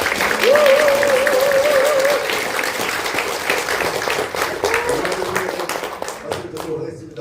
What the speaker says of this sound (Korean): 다시 한번 오래 박수.